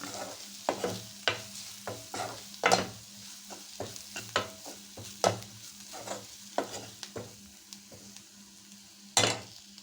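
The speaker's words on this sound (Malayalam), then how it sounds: "മുളക് പൊടി ഇട്ടിട്ട് നല്ല ഒന്ന് വയറ്റി കൊടുക്കുക" Spices and chili powder being stirred in a hot frying pan, with a steady low sizzle broken by repeated scraping strokes of a spoon or spatula against the pan, close up and with no talk.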